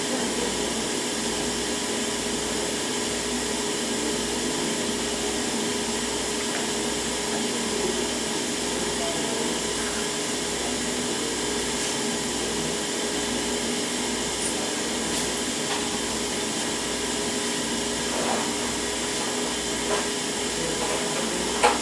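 A spin rinser dryer drying thin wafers runs with a steady, continuous machine whir and hum, constant in level throughout, with no voices.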